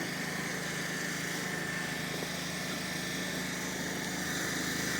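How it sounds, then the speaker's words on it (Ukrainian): Power generator running during a citywide blackout in Truskavets, a steady far-off engine drone with a constant hum under a quiet outdoor setting, no talk. "Чути працює генератор"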